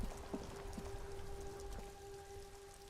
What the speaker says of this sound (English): Rain drips from the eaves and floods of the gutters, washing the filth away.